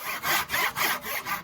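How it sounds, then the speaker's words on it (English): A hand saw rasps through wood in five steady back-and-forth strokes, close and even in rhythm. "body out of the way when you're sawing, nice and relaxed"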